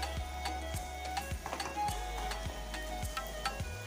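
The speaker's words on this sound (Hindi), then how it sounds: "मैंने 2-3 मिनट टमाटो पेस्ट को अच्छे से भून लिया।" Tomato paste fries with ginger garlic paste in a pan for a mutton dish, giving a quiet low sizzle under a run of regular soft clicks and taps as it is stirred.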